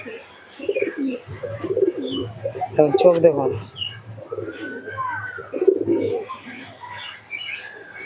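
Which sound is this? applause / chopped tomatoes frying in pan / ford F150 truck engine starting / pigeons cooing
pigeons cooing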